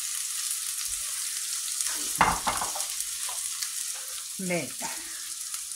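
Onion, garlic and peppers frying in hot olive oil, a steady bright sizzle throughout with a couple of stirring scrapes and clinks, while a voice speaks briefly.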